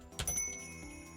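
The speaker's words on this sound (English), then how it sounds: "Bells tinkle delicately as I tug on the handle." Small door bells tinkle as a heavy restaurant door is pulled open in the video game Hustle Cats: one quick, delicate bright jingle, soft and close, fading under a quiet tonal background.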